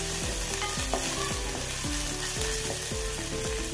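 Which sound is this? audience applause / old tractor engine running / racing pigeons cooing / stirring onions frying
stirring onions frying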